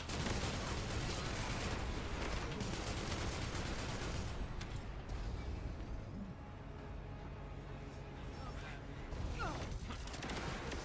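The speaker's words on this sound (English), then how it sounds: "these Jaber turrets are annoying" Jaber turrets in a sword-farming video game fire in a dense, continuous barrage, loud and close, with rapid overlapping shots and mechanical clatter holding for the whole stretch.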